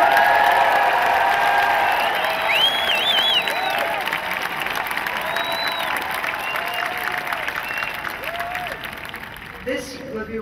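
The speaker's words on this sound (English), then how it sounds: "So please give one massive cheer for our really," A large crowd cheers and applauds loudly for Aung San Suu Kyi at an Amnesty award ceremony, a dense sustained roar of clapping with whoops and shouts that fades slightly toward the end.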